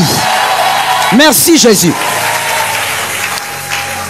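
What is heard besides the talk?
church congregation cheering and applauding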